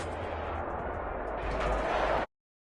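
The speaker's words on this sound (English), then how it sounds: "Fireworks, pyrotechnics, you name it." Dense crackling bursts of stadium fireworks and pyrotechnics at an NFL game, Seahawks vs Buccaneers, merge into a continuous loud roar with deep booms beneath, then stop abruptly after about two seconds.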